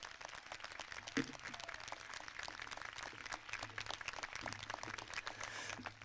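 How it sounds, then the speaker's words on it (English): Distant, faint applause from a crowd at a high school graduation ceremony, a dense patter of clapping that holds steadily for several seconds with a few louder single claps. "Could we give these two a huge round of applause?"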